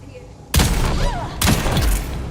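A snub nose pistol firing heavy darts in the video game Dune Awakening lets off two sharp, loud shots in quick succession, each trailing into a rumbling decay.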